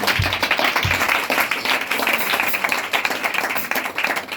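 A church congregation applauds during a worship service. Loud, continuous clapping from many hands fills the space throughout, with a couple of heavier thumps near the start.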